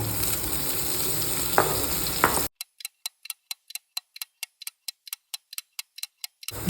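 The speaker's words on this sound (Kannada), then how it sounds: "ಸೊ ಈ ತುಪ್ಪಕ್ಕೆ ಚಾಪ್ ಮಾಡಿಟ್ಟ ಪನ್ನೀರನ್ನು ಹಾಕೊಳ್ತಾ ಇದ್ದೀನಿ." Chopped paneer sizzles in ghee as a steady, hissing fry for about two and a half seconds, then the sound cuts to near silence broken by evenly spaced, ticking clicks.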